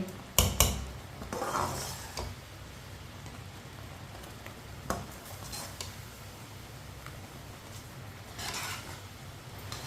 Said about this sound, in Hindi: इसी तरह चम्मच चलाते हुए 2-3 मिनट के लिए पका लेना मसालों को डाल के।